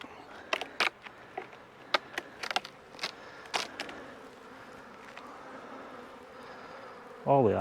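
Honeybees buzzing around beehives during a hive inspection: a steady swarm hum with scattered louder buzzes as individual bees fly close past, moderately near.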